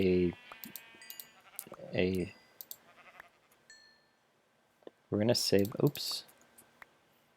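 A video game sheep gives several short, wavering bleats, one at the start, another about two seconds in and a louder pair near the end. Sparse mouse or keyboard clicks fill the quiet gaps between them.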